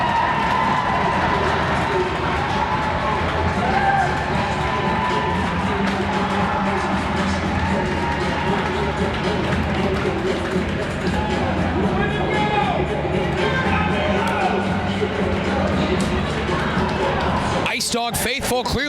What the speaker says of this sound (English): IceDog faithful clearly packing the house, as you heard the uproarious applause